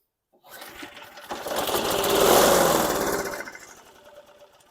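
A 2008 Craftsman rear-wheel-drive riding lawn mower engine rattles and chugs, swelling louder for a couple of seconds before fading away again.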